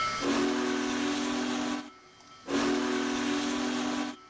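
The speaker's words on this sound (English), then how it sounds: "And let's try the whistle." Union Pacific Big Boy steam locomotive whistle in Train Simulator 2021: two long, loud, steady blasts separated by a short gap, with no talking.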